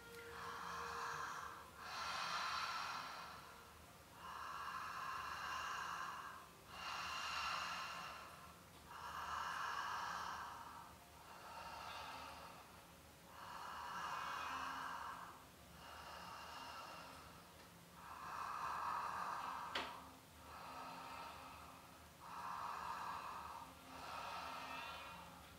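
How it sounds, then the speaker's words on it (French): Slow, deep breaths drawn through an open mouth during a calming exercise with hands on the heart, about ten even inhale-exhale cycles, close and soft, with no talking. "vous allez prendre plusieurs respirations et vous allez respirer avec la bouche ouverte"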